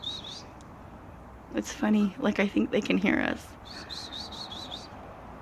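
Four baby robin chicks in the nest give high, thin, rapid chirping trills, in short bursts before and after a person speaks nearby.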